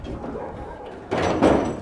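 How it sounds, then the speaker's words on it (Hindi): A gate being shut during a tense night scene in a 1978 Indian drama: a loud scraping thud and rattle near the end, after a stretch of rough low background noise. "गेट बंद कर, गेट बंद कर।"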